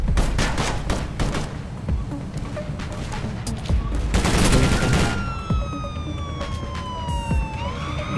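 Gunfire in the video game Armed Heist, with dense bursts of shots and siren-like wails mixed into a busy, loud game soundscape, with a rising electronic tone near the end.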